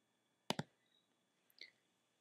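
A computer mouse button clicked twice in quick succession, then a fainter pair of clicks a second later, close and isolated in a quiet room.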